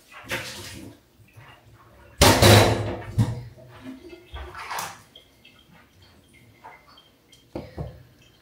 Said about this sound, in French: Donc on doit juste ajouter de l'eau chaude et touiller.